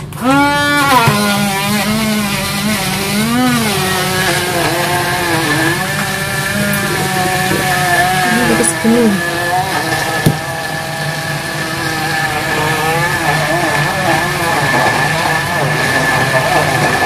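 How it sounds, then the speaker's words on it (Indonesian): A blender whirs through mango ice cream mixture with a loud, steady motor drone whose pitch wavers and dips as the load shifts, running continuously for a long stretch. "Kita akan blender dua kali lagi guys."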